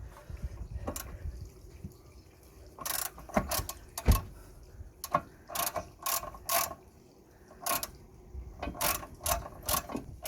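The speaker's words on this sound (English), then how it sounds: "So now we're gonna use the extension bar. Insert a 14mm socket." Ratchet with an extension bar and 14mm socket undoing a rear brake caliper bolt on a Kia Ceed, giving bursts of rapid clicking pawl strokes close by, with metallic knocks between them and no talk.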